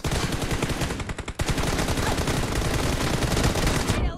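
Sustained rapid automatic gunfire rattles on almost without pause in a PUBG Mobile team battle, dense and loud, with one brief gap before the bursts resume.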